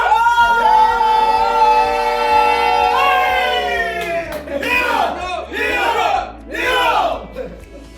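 Group of people at a wine tasting in Georgia cheering loudly and whooping up close, in a long sustained shout followed by several rising bursts of yelling.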